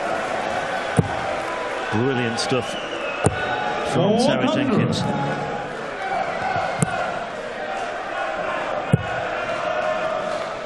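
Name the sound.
darts crowd cheering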